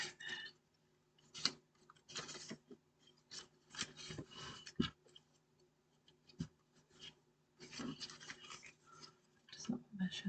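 Scissors cutting stamped paper pieces for a handmade hexagon floating panel card, close and quiet, a series of short rasping snips and paper rustles coming in irregular bursts with brief pauses between them.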